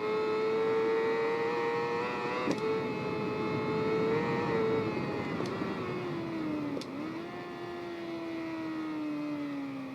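A Supersport 600 motorcycle in the racing game Ride 3 holds a high, steady engine whine with its pitch rising and falling through the revs. A few sharp clicks from gear shifts break in, and no voices can be heard.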